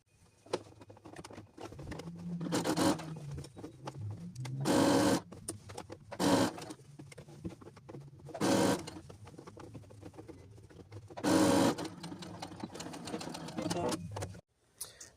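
A sewing machine stitches a jacket collar seam in several short bursts, each a loud, steady motor whir lasting about a second, separated by quieter handling sounds and some soft speech.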